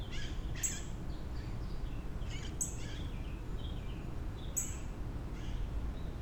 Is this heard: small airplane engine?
no